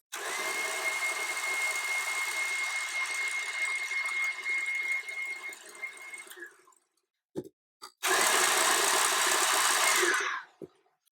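A KitchenAid stand mixer whisks meringue with a steady, loud motor whir and high whine, stops briefly with a few clicks, then starts again at full speed before shutting off.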